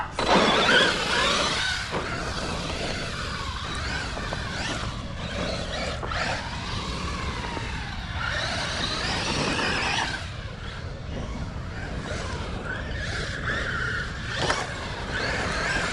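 A Redcat Racing Valkyrie 4S RC monster truck runs with a loud, high electric motor whine that rises and falls in pitch as it speeds up and slows, with gritty wheel and terrain noise underneath; no voices.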